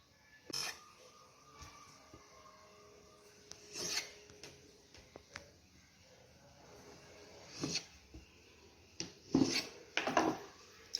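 A knife slices through rolled cabbage patties on a board, with a handful of separate rasping cuts and taps, close and fairly quiet, spaced irregularly with short pauses between.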